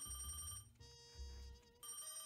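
An old-fashioned telephone bell rings in the detective game Crime or Punishment, two bright metallic bursts split by a short gap, clear and close over a low background hum.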